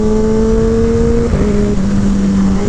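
Kawasaki Ninja ZX10-R sportbike engine pulling hard through canyon corners, a loud, close, steady high-revving drone whose pitch holds, shifts down midway, then climbs again, with no talking.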